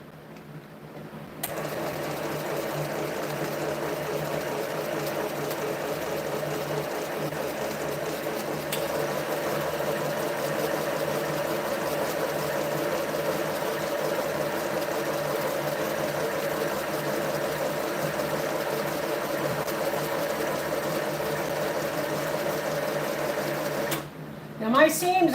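A sewing machine runs steadily for over twenty seconds while strip quilting, a close continuous mechanical hum and needle rattle that starts abruptly and stops near the end, with no talk during the stitching.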